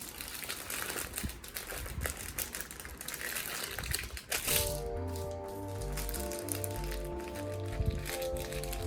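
Aluminum foil crinkles and crackles up close for about four seconds as a sheet is folded into a strip, then the crumpling stops and a steady hum with faint music takes over.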